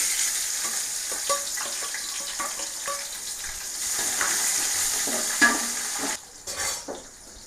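Sliced onions and green chillies frying in oil for chicken biryani give a steady close sizzle, broken by scrapes and clinks of a spoon stirring the pan, with a louder clatter near the end.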